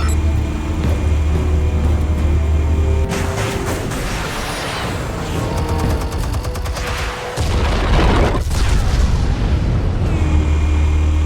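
Armed explosives go off in the Batman The Telltale Series video game, a loud sustained blast with heavy low rumble, crashing debris and metallic clatter, surging again partway through amid dense game sound effects.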